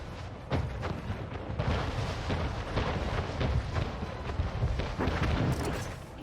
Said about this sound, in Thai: เรือโดนโจมฮะแถมเรามีบ้านเราโดนยิงด้วย